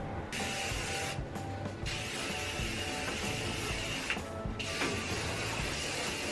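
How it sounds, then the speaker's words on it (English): A continuous aerosol hiss of Style and Care compressed micro mist hairspray, steady and close, with a few brief pauses between sprays. "just grab your hairspray"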